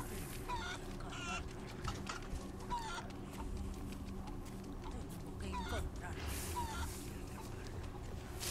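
A chicken clucking in the Resident Evil 4 Remake video game, with several short clucks over a steady low game ambience and a voice talking at times.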